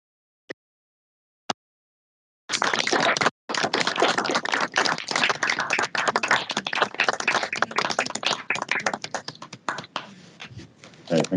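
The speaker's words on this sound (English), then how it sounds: "can we have a further round of applause for these prescribers as well" An audience applauds pharmacy-department prescribers at a recognition-of-learning event. Two sharp isolated claps come first, then dense, sustained clapping from the room that thins out toward the end.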